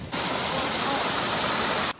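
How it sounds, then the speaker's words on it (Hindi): A secret waterfall near Rishikesh roars in a dense, steady rush of falling water, loud and close, cutting in and out sharply at the edges. "ये देखो, ये वाटरफॉल नीचे वही वाला वाटरफॉल है"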